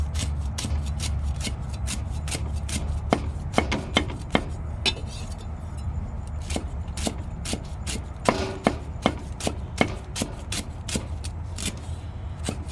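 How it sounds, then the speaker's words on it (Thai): Rapid, irregular knife taps on a cutting board, finely shredding vegetables for Isan chicken larb, sharp and close, repeating in quick bursts over a low background hum. "เอามาหั่นผักกันเลยก่อน"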